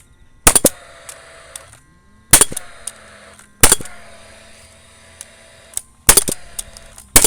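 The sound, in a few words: hammering timber framing together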